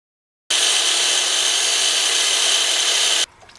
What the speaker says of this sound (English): Now I'm gonna do some cutting around the electrical socket.